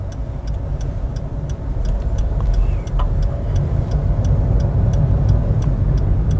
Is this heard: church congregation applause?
no